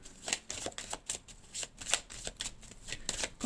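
Tarot cards shuffled close up: a quick, quiet, rhythmic run of papery riffles and slaps repeating steadily, with no talking.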